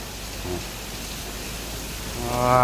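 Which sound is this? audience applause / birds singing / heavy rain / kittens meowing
heavy rain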